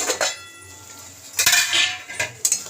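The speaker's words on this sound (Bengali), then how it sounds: "এখন আমি ঢাকনাটা খুলবো।" A cooking pot lid comes off over simmering greens, with a sharp metallic clank, a brief rattle of metal, then another clink near the end against a quiet background.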